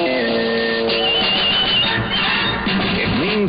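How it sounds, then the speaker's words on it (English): A CBS Radio Sports signature jingle from a station sign-off, a loud, busy burst of layered tones and rising electronic swoops that runs straight through without any speech. "Our sports signature sounds like this."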